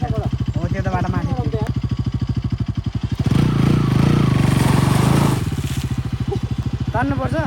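A motorcycle stuck on a muddy road, its engine chugging close by, then revving hard in a loud sustained burst before settling back, with voices talking over it.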